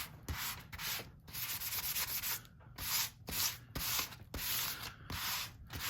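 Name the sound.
rubbing over National Geographic page for frottage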